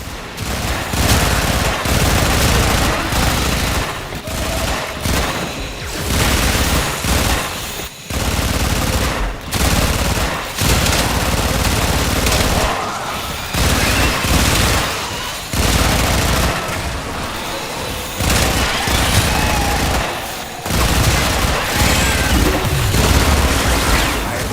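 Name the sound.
gunfire and explosions in a video game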